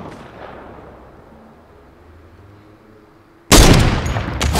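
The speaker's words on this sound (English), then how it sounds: "There's the sniper shot." A sniper rifle shot in Fortnite goes off as one sudden loud blast near the end, after a stretch of quiet game ambience, and a ringing tail follows it.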